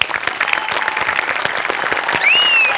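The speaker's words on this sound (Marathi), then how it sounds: "प्रथमेश तुझ्यासाठी जोरदार टाळ्या" An audience at a home bhajan gathering claps loudly and fast for a performer, with dense close applause throughout and a shrill whistle rising near the end.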